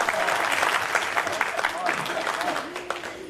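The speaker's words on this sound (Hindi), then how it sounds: "अब इनके लिए तालियां बजाएं।" Audience applause at an Indian award ceremony, a dense continuous wash of clapping from a large crowd filling the hall, steady and fairly loud with faint voices mixed in.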